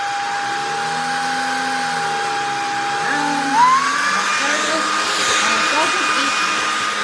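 Shark IZ462H Vertex cordless stick vacuum with DuoClean running close up, a steady high motor whine with a brief pitch shift as the head moves, and no speech.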